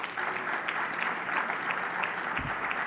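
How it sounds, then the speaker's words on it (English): Applause from the audience at a morning keynote, honoring sponsors and golfers after a charity golf fundraiser; dense, steady clapping from a crowd fills the room without pause. "I want to give the sponsors and the golfers a round of applause for that"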